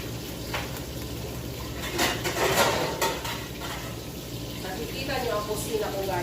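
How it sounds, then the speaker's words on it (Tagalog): Cooking pots are handled in a home kitchen, with metallic clanks and scrapes rising in the middle and a bright rattle near the end, all over a low steady background hum and faint stirring noises. "Maghahanap naman ako ngayon ng kaldero."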